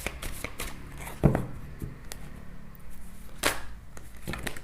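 Tarot cards are shuffled by hand in quiet sharp bursts, with a riffle, soft slaps and scattered flicks, close up, with no talking.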